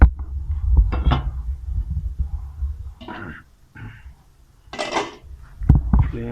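A cooking pot set down on a stove while preparing chicken palak, with metallic clunks and knocks of cookware at close range, spaced by quiet gaps and a few brighter clatters, no speech.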